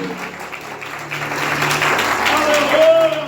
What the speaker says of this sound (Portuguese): Se você crê, aplaude o Senhor Jesus nessa manhã.